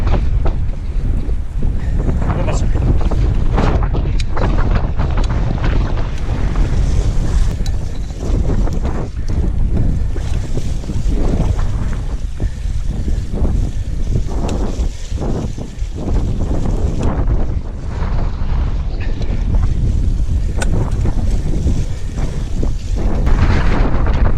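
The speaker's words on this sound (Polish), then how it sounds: "na razie ten wiatr zachęca" Strong wind buffets the microphone on a windy Saturday outing near Zduńska Wola, a loud continuous rumbling roar with constant gusty fluctuation and no clear talk.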